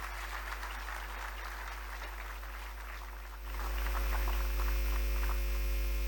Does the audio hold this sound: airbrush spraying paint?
no